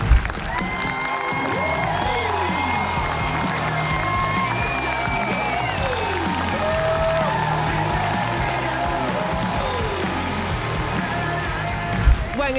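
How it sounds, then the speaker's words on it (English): A studio audience at a televised Australian ballroom dance competition breaks into sustained, steady applause with cheers and whoops mixed in, a thick wash of clapping that carries evenly from start to finish. "a round of applause from the gang upstairs"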